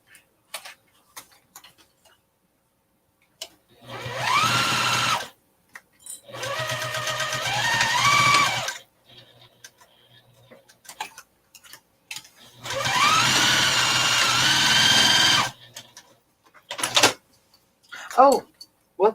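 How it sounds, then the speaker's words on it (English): A sewing machine stitching zipper pouch pieces together runs in three steady whirring bursts of a few seconds each, separated by quiet pauses with small clicks and handling noises. "I'm sewing both pieces together."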